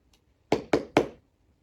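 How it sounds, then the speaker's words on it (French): Three quick, evenly spaced knocks on a wooden house door, close and fairly loud, alone against a silent background. "Il frappa à la porte"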